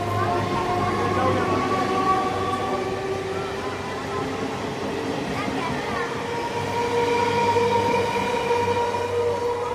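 A train rolling through a railway station in a steady, loud rumble with tonal wheel and motor whine throughout, while a public-address voice speaks over it.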